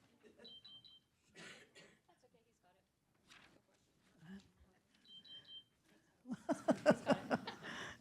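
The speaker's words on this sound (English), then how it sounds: "Somebody's alarm, I think." An alarm beeping in short repeated bursts during a choral winter concert, faint against a quiet hall, with scattered talk and chuckles between beeps and a louder burst of voices at the end.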